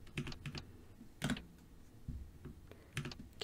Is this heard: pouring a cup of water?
no